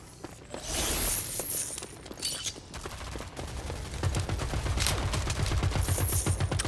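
Automatic weapon fire in the shooter game Rogue Company, with dense rapid bursts of shots and clattering impacts forming a loud, continuous volley that thickens toward the end.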